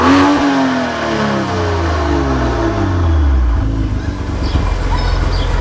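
A manual BMW E90 with the N55 engine revs with its exhaust valve open, the pitch sweeping up and down through several loud, throaty pulls, close and dominant, followed by a settled idle rumble.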